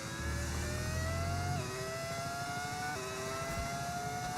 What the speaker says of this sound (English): Is the rattling noise the car bottoming out on the straights? It is indeed.